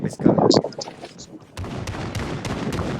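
Sharp synthetic video game gunshots crack out in a loose burst, then several spaced shots ring over steady background noise, with people talking early on.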